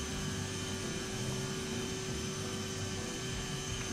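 Steady, dense roar of airliner jet engines at takeoff power during the climb-out in a flight simulator game, a continuous broadband rumble with a fixed whine, loud and unbroken with no talk.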